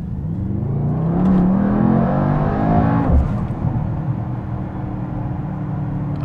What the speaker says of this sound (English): So as we are entering the Autobahn, we can accelerate.